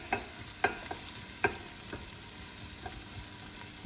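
Onion, ginger and other aromatics fry quietly in a pan alongside a head of broccoli, a soft continuous sizzle broken by several sharp spoon-stirring knocks, no voices.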